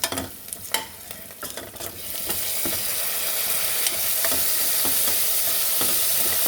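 Tomato drops into a frying pan for a village-style potato and chana dal curry: a few clattering knocks and stirs come first, then a steady, rising close sizzle carries on alone.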